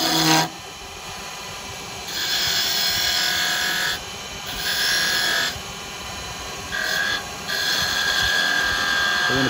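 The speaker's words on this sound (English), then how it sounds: "this is all being done with a square carbide chisel" A square carbide chisel cuts wood spinning on a lathe, giving a hissing, scraping rasp in several loud bursts separated by quieter stretches of the motor's steady whine.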